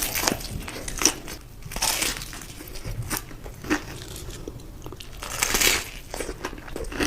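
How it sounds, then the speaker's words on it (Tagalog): Bites into crunchy extra-spicy fried chicken, close to the mic: a few loud crackling crunches spread across the clip, with quieter chewing and rustling between them. "Their chicken is so crunchy."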